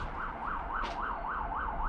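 A police siren wails in a steady rising and falling cycle, about five sweeps over two seconds, moderately loud above a low background rumble, with a brief hiss partway through.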